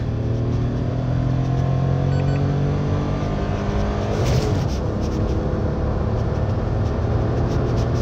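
Citroën C3 2023 accelerating hard under a soft rev limiter, the engine droning steadily and loudly up close, with a brief shift into second gear around the middle and no talk.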